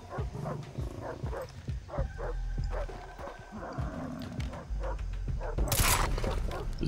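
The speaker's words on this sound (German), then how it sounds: "Die Hunde gehen mir bis auf den Beutel." Dogs bark and yelp in a jungle in the video game Far Cry 3, mixed with growls and snarls over steady game ambience, with the animal calls coming in repeated bursts.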